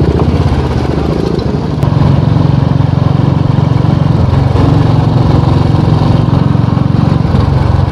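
A motorcycle engine drones loud and close throughout a ride, a steady rough mid-pitched roar with a brief dip and surge near the two-second mark, no talking over it.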